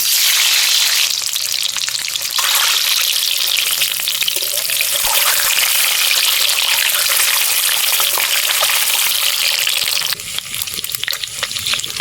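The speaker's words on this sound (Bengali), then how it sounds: "তেল দিয়ে নিলাম। ডিমগুলো এবারে ভেজে নেব।" Eggs fry in hot oil with a loud, continuous hissing sizzle that softens slightly near the end as something is stirred.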